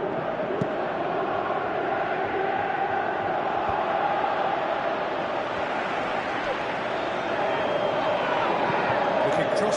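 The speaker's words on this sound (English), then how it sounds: "you can hear how the crowd are reacting to this too" A stadium crowd in a PS4 football game roars in a continuous dense swell of cheering and shouting, steady and loud throughout, with commentary talk underneath.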